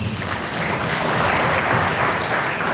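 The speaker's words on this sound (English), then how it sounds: "Please join me in applauding his contribution." An audience at a university public lecture on blended learning claps together in steady, dense applause, moderately loud and close, lasting the full few seconds without any voices over it.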